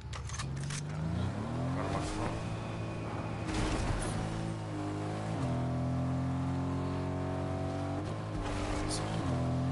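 A car engine in a video game revs and drones steadily with shifting pitch as it passes, moderately loud and continuous, with a voice speaking over part of it.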